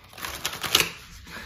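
A few quick crisp rustling snaps of tarot cards being shuffled close by, with no talking.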